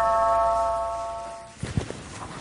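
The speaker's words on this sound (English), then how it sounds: "Doorbell." A doorbell chime of several steady sustained tones rings out for about a second and a half, then gives way to a few soft thumps and shuffling noises.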